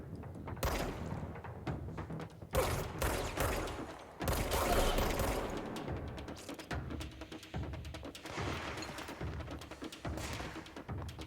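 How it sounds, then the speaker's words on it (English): Rapid bursts of gunfire in the video game Control, loud sharp volleys coming in clusters with thuds and mechanical clatter between them, no speech heard. "Where is the shooting coming from?"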